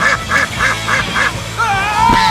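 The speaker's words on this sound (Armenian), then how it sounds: "Աղբեր ես բադին եմ ուզում նկարեմ, բադն է, բադ" A duck quacks five times in a quick, even series close by, then gives a longer, wavering call.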